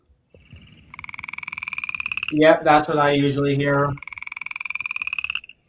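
Recorded frog calls come through as rapid pulsed trills that are clear and fairly loud. A person talks briefly in the middle, and the trilling resumes before and after the voice.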